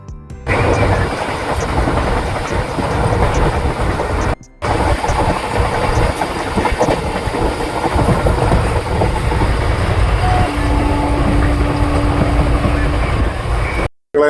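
A train between Kollam and Palani rumbles steadily along the rails for the whole stretch, loud and continuous, with a brief dropout near the start and a faint tonal hum later.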